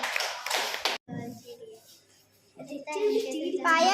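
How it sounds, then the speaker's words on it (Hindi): Schoolchildren in a government school classroom break into a brief burst of hand clapping, followed by a teacher and kids talking. "ठीक ताली बजाइए।"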